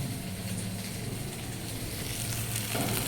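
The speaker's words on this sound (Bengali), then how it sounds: "তো উচ্ছে ভাজাটা হয়ে গেছে প্রায় শেষের দিকে" Bitter gourd fries in a pan with a steady, close, broadband sizzle that holds evenly throughout without pause.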